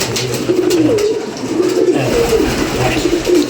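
Pigeons coo in a loft kept for breeding pairs, low throaty rolling calls repeating in overlapping bursts, close and fairly loud over a steady background murmur, with no talking.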